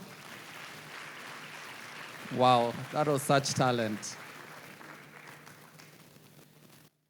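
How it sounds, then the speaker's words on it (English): Someone speaks over a steady wash of audience applause at a school graduation ceremony that carries on beneath his voice from start to finish. "Give them a round of applause."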